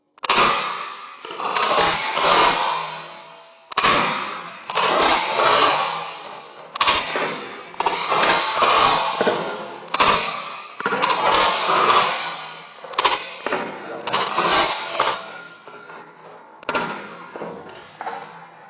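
Metallic clacks and sliding rattles from an Adler B220 lever-action shotgun's cocking handle being cycled rapidly, safety off, in repeated bursts of close, sharp mechanical action across the whole stretch.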